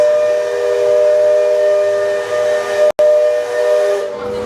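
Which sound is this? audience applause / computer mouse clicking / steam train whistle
steam train whistle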